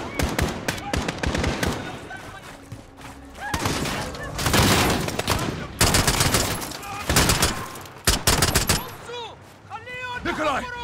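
Gunfire in Call of Duty: Modern Warfare comes in loud, rapid bursts of shots and booms throughout, with short pauses between volleys and voices talking over the action.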